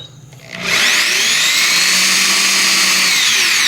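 A 3/8-inch right angle electric drill spins up from quiet to a loud, steady high whine and runs continuously at full speed, close by.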